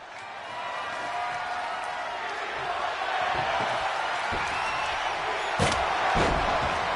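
In a wrestling video game, a crowd roars continuously while two sharp, heavy table slams crack out near the end, loud and close.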